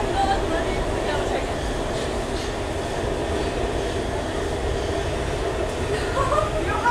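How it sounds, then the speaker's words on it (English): A continuous low rumble of a train passing nearby in Washington, DC, steady and loud throughout, with faint high squeals toward the end. "is that a train?"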